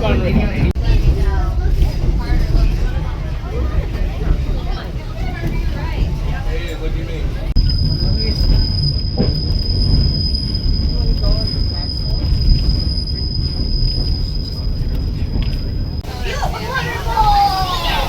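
A Skagway tourist train car rolls along the rails in Alaska, a loud continuous rumble and clatter with a long high wheel squeal through the middle, while people talk and chatter in the car.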